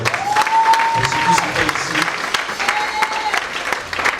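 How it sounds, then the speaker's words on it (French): An audience at a Christian worship event bursts into sustained applause and cheering to acclaim Jesus Christ, a dense wash of clapping with voices rising over it, loud and continuous throughout. "Et je voudrais qu'on acclame Jésus-Christ."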